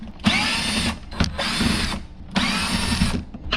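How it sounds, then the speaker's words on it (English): A power driver fitted with a small Torx bit whirs in three close, loud bursts while backing out little screws from a C6 Corvette headlight housing, with short gaps between runs. "You need a little Torx bit to get in here to these little screws"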